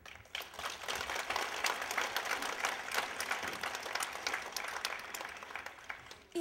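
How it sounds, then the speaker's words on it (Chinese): Sustained audience applause at a centennial celebration performance in Chicago, a dense wash of many hands clapping steadily for several seconds, fairly close and full, with no talk over it. "你们给予这些演出的人员这么多的掌声，这么多的鼓励"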